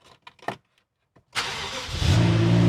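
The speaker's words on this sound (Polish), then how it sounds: "Pierwsze odpalenie i już jest banan na twarzy. Już słychać, że jest to V8" A few faint clicks and rustles, then the V8 engine of a BMW X6 M Design Edition cranks and catches, roaring up loudly and settling into a deep, rumbling idle.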